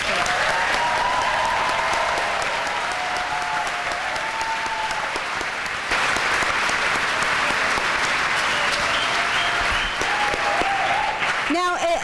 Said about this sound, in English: Let's everybody give them a round of applause.